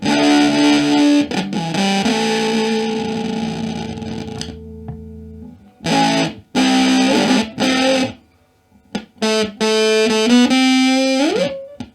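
Electric guitar through an LM386-based pedal, heavily distorted with a gritty, bit-crushed 8-bit texture, sustained chords broken by abrupt stops and choppy bursts, loud and close.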